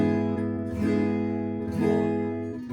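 Guitar chords ring out close up, with a few distinct strums, each left to sustain before the next chord.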